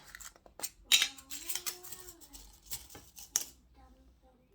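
Scissors snipping fabric while a sewing pattern is cut for a mermaid gown, several close, crisp cuts with a voice talking over them.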